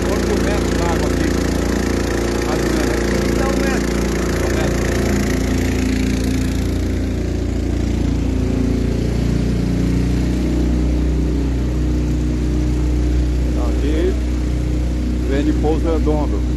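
A boat's engine drones steadily as the vessel moves through roughly a metre of floodwater in the town centre of Rio do Oeste, Santa Catarina, with voices talking over the continuous motor noise.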